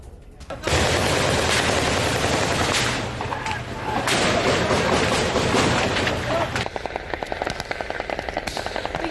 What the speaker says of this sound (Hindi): एक के बाद एक कई बार कई राउंड फायरिंग की गई